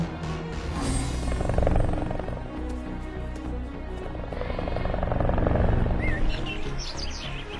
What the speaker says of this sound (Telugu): హెలికాప్టర్లన్నీ నది దగ్గరికి వచ్చేస్తాయి